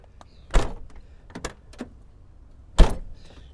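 The door of an old truck at a salvage yard is slammed shut several times, giving sharp metallic thuds with quieter clunks and rattles between them, close by.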